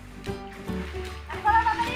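Water splashes in a pond on a winter morning as a woman bathes her husband, a few soft close splashes and sloshes while people talk.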